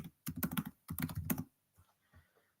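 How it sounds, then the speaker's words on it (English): Rapid bursts of typing on a computer keyboard, close and crisp, with two clusters of keystrokes followed by a few softer isolated taps. "I'm just typing this word in."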